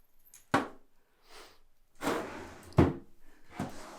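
Wooden drawers in an art studio thump and slide open and shut several times, close by, with sharp knocks between softer scraping movements.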